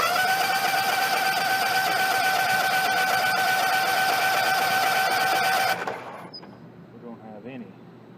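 Small engine with a pulse-style fuel pump being cranked over to check fuel flow, a steady dense mechanical whir for several seconds that cuts off abruptly, followed by quieter handling noise and brief voices.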